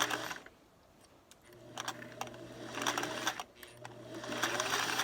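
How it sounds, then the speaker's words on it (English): A sewing machine stitches fabric held in place with a sewing stiletto, running in short steady whirring bursts with a pause between them, mechanical ticks audible, no speech. "I can slip that right under my pressure foot and hold that while my needle"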